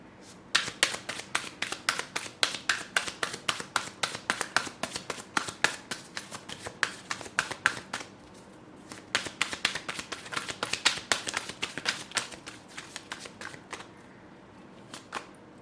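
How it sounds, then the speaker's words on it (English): Rapid crisp riffling of tarot cards being shuffled in two long bursts with a short pause between, close and clear, with no talking. "I'm gonna shuffle the cards."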